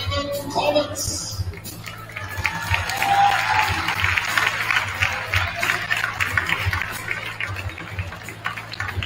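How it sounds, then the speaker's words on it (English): Sustained clapping and cheering from a crowd in a gym at a 4A ASAA basketball opening ceremony, loud and continuous over a low hum, with an announcer's voice heard briefly near the start. "Give it up for the Raven Comets."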